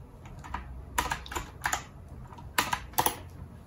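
Keystrokes on a computer keyboard come in short irregular bursts while entering a spreadsheet formula for balancing ice cream mixes, ending in firmer taps. The clicks are close and moderately loud, with no talking.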